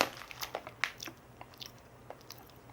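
Someone chewing raisins close to the microphone: soft, quiet crunchy bites and wet chewing in an uneven rhythm, with a few sharper bites early on and no talk.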